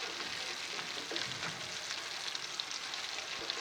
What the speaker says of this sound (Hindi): अब उस साइड पे 2 मिनट के लिए हम फ्राई होने देते हैं।